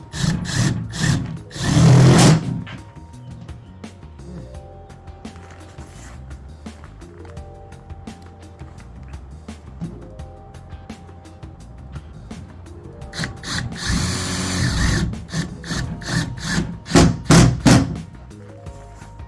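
Power drill driving fixings to mount the carbon-fibre-reinforced plastic base plate of a surface-mount gate stop, with loud whirring bursts near the start and again around the middle to end, separated by quieter knocks and handling noise.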